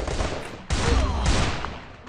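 Bursts of gunfire from a shooting video game, a loud sustained volley that cuts in abruptly and stays dense, with a brief quieter stretch before it.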